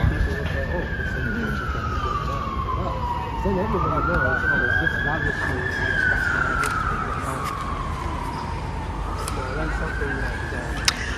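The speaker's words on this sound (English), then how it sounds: "the city is kind of loud with sirens and a lot of like construction" A wailing siren sweeps up and down over steady city traffic noise, loud and fairly close, with people talking underneath.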